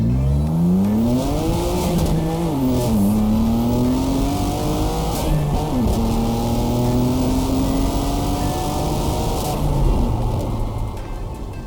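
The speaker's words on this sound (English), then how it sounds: "we have the REMUS Sport exhaust system fitted on. It is the race variant paired with a different mid-pipe to achieve the tone that we wanted" A BMW M2 Competition with a REMUS Sport race exhaust and a different mid-pipe revs hard and close, its engine note climbing and dropping through repeated throttle blips, with no talk.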